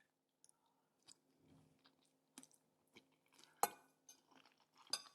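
Someone chews a big bite of vegan seitan meatball spaghetti, with faint close-up wet mouth noises, soft bites and a few light clinks of cutlery scattered through quiet pauses, no talking.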